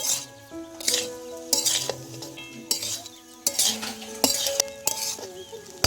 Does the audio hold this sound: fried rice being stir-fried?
yes